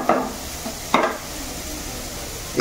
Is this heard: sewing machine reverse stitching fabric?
no